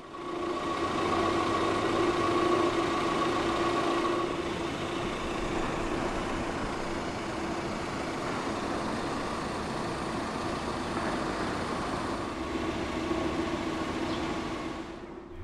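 A 2015 Proton Iriz 1.6 Executive idles steadily after start-up, a constant mid-pitched engine hum with a faint whine, holding even and fairly close for the whole stretch with no voices.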